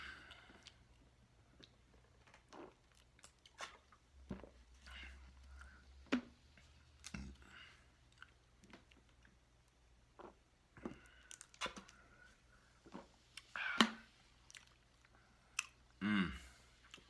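Chewing and biting into a big slice of Loaf N Jug gas-station pizza, with sporadic close, wet crunches and mouth clicks spread across a quiet room, with no talking.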